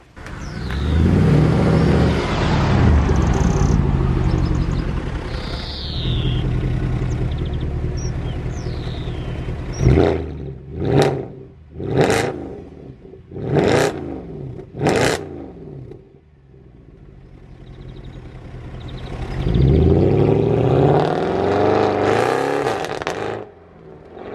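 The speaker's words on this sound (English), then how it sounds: "let's just get some drive shots of me driving up the drive because it sounds epic" A salvage Mercedes C63 driving up a driveway: deep V8 rumble and idle, then a run of sharp throttle blips with crackling revs, settling before the engine swells again as it moves off.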